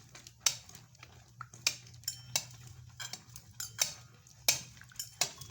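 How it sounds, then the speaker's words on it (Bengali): A fork scrapes and taps against a dish while mashing boiled sweet potatoes for a payesh dessert, giving sharp irregular clicks about once a second over a low steady hum, with no talk. "কাঁটার সাহায্যে ভালো করে মিক্স করে নিলাম।"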